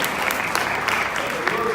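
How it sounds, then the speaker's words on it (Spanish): A church congregation claps loudly during a worship service in a short, dense, steady burst of applause that sounds close and fills the room. "Un aplauso fuerte para el Señor."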